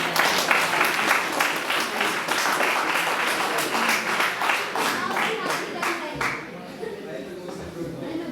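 Audience at a kavi sammelan poetry gathering at Gurugram University bursting into loud, lively hand clapping, dense and continuous, with some voices and talk mixed in before it thins out.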